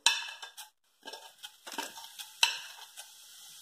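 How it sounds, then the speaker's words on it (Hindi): Cumin seeds dropped into hot oil in a kadhai for jackfruit curry, giving a light crackling sizzle with clinks of utensil and pan, fairly faint and uneven over a few seconds. "ऑयल गरम हो चुका है, अब हम इसमें जीरा डालेंगे"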